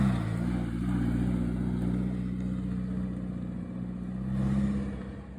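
A Ford RS Turbo driving away, its engine a steady low drone with a brief swell of revs near the end, moderately close and with no talk over it.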